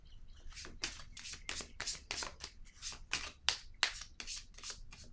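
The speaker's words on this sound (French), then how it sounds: "Je vais piger une autre carte ici." A deck of cards is shuffled and a card drawn, a quick run of crisp riffling swipes and soft slaps close up, a dozen or so bursts in an uneven rhythm with no talk.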